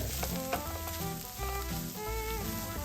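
Cut dried red chillies and curry leaves sizzle in hot oil for an Onam sadya koottucurry, a dense crackling fry with bright spitting pops and stirring scrapes, steady and close without speech.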